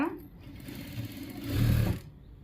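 A sewing machine stitches a blouse band, a close, steady mechanical whir that speeds up toward the end and then stops abruptly.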